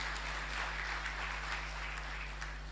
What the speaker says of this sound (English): A big round of applause for the Republic of Malawi.